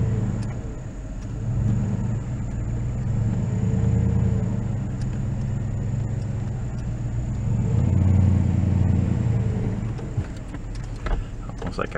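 A vehicle reverses slowly with a boat trailer hitched behind, its engine idling as a steady low rumble throughout, swelling briefly while it manoeuvres, with a few knocks and clunks near the end.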